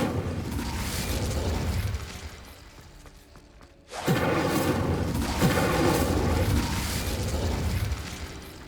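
Incendio fire spell cast in the Hogwarts Legacy video game, heard as a sudden loud whooshing burst of flame that stays full and roaring for several seconds amid game sound effects.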